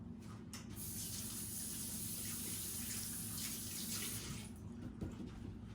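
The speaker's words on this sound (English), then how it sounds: "Just wash my hands a little bit." Water runs steadily from a kitchen tap as hands are washed under it, a close, continuous hiss and splash with no talking.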